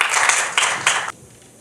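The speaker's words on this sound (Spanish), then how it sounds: "pedirle pues que pase para que les demos unos merecidos aplausos" An audience at a book presentation breaks into applause: a loud burst of clapping that swells in a few waves, then cuts off abruptly.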